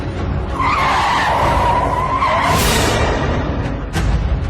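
A car skids hard to a sudden stop, tires squealing loudly for a few seconds and fading out with a short final screech, as a dramatic sound effect.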